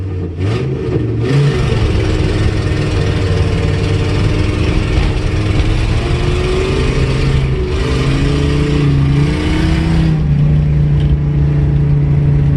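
A car engine held at a steady, loud rumble, its pitch climbing and wavering through several revs before settling, continuous throughout, as the clutch is dumped for a burnout on gravel in a manual-transmission car.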